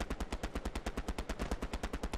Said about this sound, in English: Where's that gunfire?